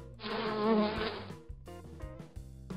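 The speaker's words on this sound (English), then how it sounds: "Bee." A bee buzzes loudly in a sustained drone for about a second, then fades into soft rhythmic musical tones.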